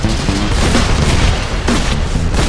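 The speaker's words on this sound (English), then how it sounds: "It doesn't stand a chance against my trusty revolver." Revolver gunfire in a Minecraft zombie mutant battle, loud and dense, with repeated sharp shots and booming bursts running continuously through the short stretch alongside game sound effects.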